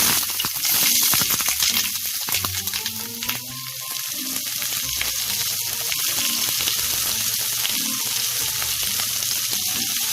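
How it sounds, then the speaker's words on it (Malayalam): Chopped onion sizzling and frying steadily in hot oil in a pan for a home-style egg drop curry, a continuous bright crackle with occasional stirring. "ഈ കറി തയ്യാറാക്കിയെടുക്കാൻ നമുക്ക് ആദ്യം പാനിൽ എണ്ണ ഒഴിച്ച് ചൂടാകുമ്പോൾ അതിലേക്ക് സവാള"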